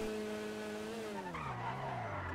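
Tires of a Mini Cooper skid and squeal in a Grand Theft Auto driving game, a loud steady screech whose pitch slides downward over the engine drone for a couple of seconds.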